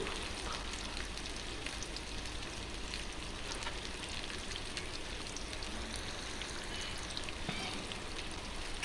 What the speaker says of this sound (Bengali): পেঁয়াজ মরিচগুলি একটু আমরা ভেজে নেব